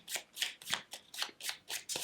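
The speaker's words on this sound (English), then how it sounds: "And then I will shuffle up my cards." A deck of cards being shuffled during a board game of Viscounts of the West Kingdom, seven crisp rhythmic riffling bursts, close and even-paced, no talk.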